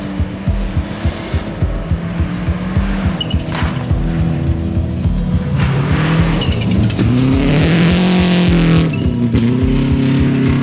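Rally car on a gravel forest stage at the Pacific Forest Rally, its engine loud and close, revving and changing pitch through gear shifts as it accelerates, with tyres scrabbling over the surface.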